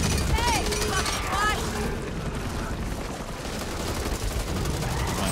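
Rapid gunfire rattles in Back 4 Blood as shots strip armor off an enemy, dense bursts and blasts mixed with game noise beneath other in-game sounds.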